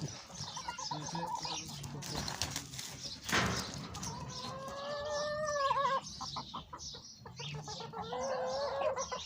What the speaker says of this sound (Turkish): Horozlar kapışıyor.